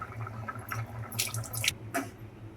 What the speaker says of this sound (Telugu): ఇంక ఇప్పుడు చింతపండు రసం అయితే యాడ్ చేసేసుకుందాము